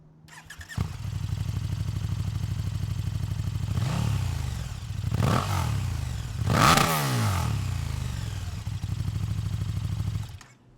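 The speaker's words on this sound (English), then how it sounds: "This is going to be the sound check for the 2019 KTM Superduke 1290R." A 2019 KTM 1290 Super Duke R starts and idles with a deep, steady V-twin rumble close by, broken by three sharp throttle blips that rev up and fall back, with no voices.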